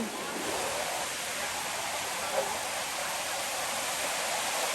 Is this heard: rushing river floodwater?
yes